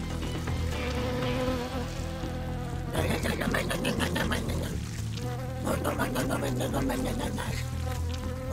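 Swarming SCP bees in a Roblox horror game drone with a dense, continuous insect buzz, swelling in louder pulsing bursts partway through over a low musical bed, with no talking.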